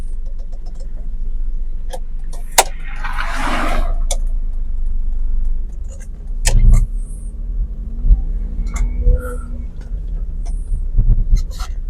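A learner car on a road-test practice drive is parked at the roadside, its engine a low steady rumble with scattered clicks and knocks and a brief muffled voice partway through.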